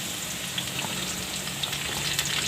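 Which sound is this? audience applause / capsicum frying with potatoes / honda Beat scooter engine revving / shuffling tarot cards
capsicum frying with potatoes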